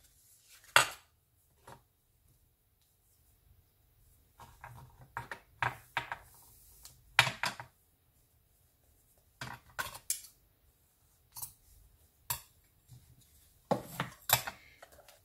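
Scissors cut craft material for a junk journal seashell box in a string of short, crisp snips and clicks, some single and some in quick clusters, separated by quiet gaps.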